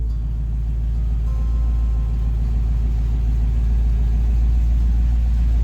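A Chevy Nova engine fitted with Holley Sniper EFI, idling at about 850 RPM: a steady, low, rumbling drone, close and loud, holding an even pace throughout with no revving.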